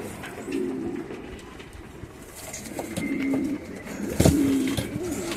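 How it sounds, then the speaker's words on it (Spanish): Racing pigeons arriving at a loft during a young-bird futurity race, cooing repeatedly in low, throaty bursts at moderate distance, with a louder coo near the end over steady outdoor background noise. "Están las palomas, ya van llegando."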